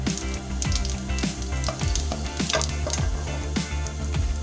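Whole chilies and cumin seeds sizzling in hot leftover pakora oil for kadhi pakora, a loud, steady crackle and spatter with sharp pops scattered throughout, close up and without talk.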